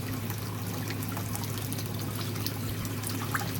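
Water runs steadily through an aquaponics system, a constant soft rushing and trickling with no break.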